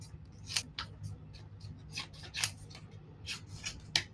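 Scissors snip through paper, cutting out Halloween bat transfers meant for glass, a series of short crisp cuts and rustles close by, irregularly spaced and fairly soft, with no talk.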